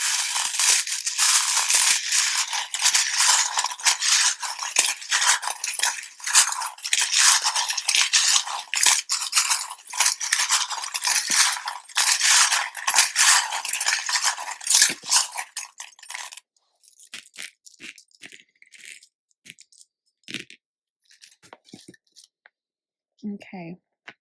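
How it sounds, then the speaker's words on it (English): Tarot charms and dice shaken and dropped in a loud, dense jingling metallic clatter that runs steadily for about sixteen seconds, then thins to sparse, softer clicks and taps. "If you don't like the sound of the charms or you think you won't like it, they can be very loud."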